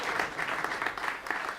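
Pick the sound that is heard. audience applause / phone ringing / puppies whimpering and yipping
audience applause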